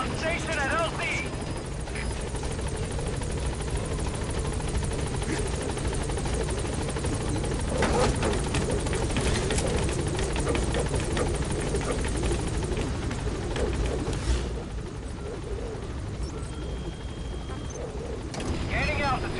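Support helicopter in Metal Gear Solid V arriving at a landing zone, its rotors a loud, steady, close roar throughout, with a radio voice speaking over the noise.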